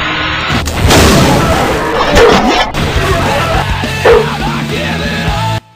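A dog in the video game Oblivion barks and whimpers amid loud combat thumps and booms, with someone shouting over the fight.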